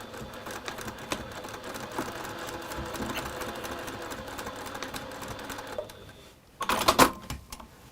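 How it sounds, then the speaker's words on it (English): Sewing machine stitching steadily along a quarter-inch line, a continuous rapid mechanical chatter lasting about six seconds, then stopping, followed by a short burst of brighter clattering handling noise. "you are going to stitch along that line there"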